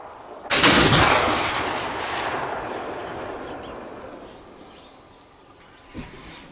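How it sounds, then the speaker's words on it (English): A single loud shot from a Kibler Fowler muzzleloader firing a bare round ball outdoors, a sharp blast followed by a long rolling echo that fades over several seconds, then a faint thump. "I need to fire one to make sure that barrel is dry and free of oil."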